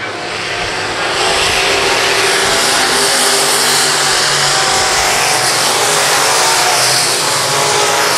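Race cars roar around Lakeside Speedway, a loud, steady wall of engine noise that swells slightly as the pack passes close by, with no break for the full stretch.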